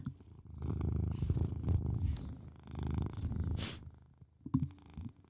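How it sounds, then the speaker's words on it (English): Bullet, a pet cat, purrs close to the microphone in steady rumbling waves that rise and fall with each breath, with a few soft bumps and rustles between them. "I swear, he does more than purr."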